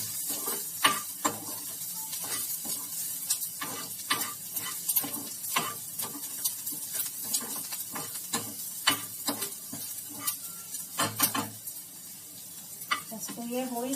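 Cumin seeds frying in a pan and browning as they are stirred, with a continuous sizzle broken by frequent quick scraping and clicking strokes of the spoon.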